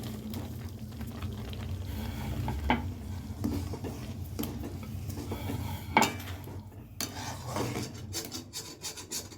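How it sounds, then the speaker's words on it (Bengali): Crumbled palm jaggery tipped into thickened kheer in a cooking pot, giving a steady near rasping and scraping with a few louder clinks of a spoon against the pot. "পাটালি গুড় গুঁড়ো করে রেখেছি, এবার দিয়ে দিচ্ছি।"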